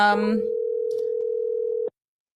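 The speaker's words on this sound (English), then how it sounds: "Miss Shelma, let me call you. Answer your phone." Telephone tone on an outgoing call: after a brief voice at the start, one steady, clean tone holds for about a second and a half, then cuts off abruptly into silence.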